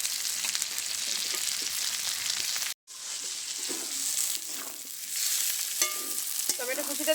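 Meat sautéing with chopped tomato in a pan, a steady bright sizzle and frying hiss with occasional stirring scrapes, broken by a brief silent gap partway through.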